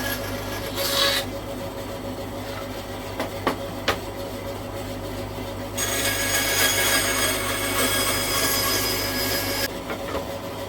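A power tool rasps and files a part during a van camping build, with a steady grinding hum throughout and louder, brighter stretches of abrasion near the start and for several seconds later on, with no talking.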